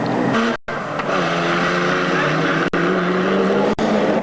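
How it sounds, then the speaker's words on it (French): A racing off-road buggy powered by a 3-litre Porsche engine at an endurance race: a loud, sustained engine roar close by, with brief sharp dropouts like gear shifts. "poussé par un moteur Porsche de 3 litres."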